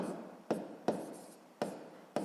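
Quiet handwriting on paper while working a sixth-grade math exercise, a few short pen strokes spaced unevenly, close and soft with no talk.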